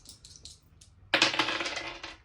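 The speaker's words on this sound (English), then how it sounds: "Shake up the dice like you're having fun." Dice shaken in cupped hands for a Ludo board game in Jamaica: a few soft rattling bursts, then a loud, near clatter as the dice tumble and roll for about a second before settling.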